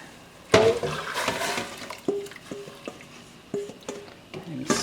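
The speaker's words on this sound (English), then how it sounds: "We keep stirring, stirring, stirring." A spoon scrapes and knocks around a pot of cooking cornmeal in uneven strokes, with soft wet stirring sounds and a few clinks, close up and fairly quiet.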